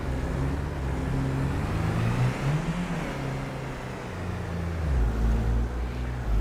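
A car cruising in Farming Simulator 25, with a steady engine drone and low rumbling hum that rises and falls slightly in pitch, continuous and close throughout.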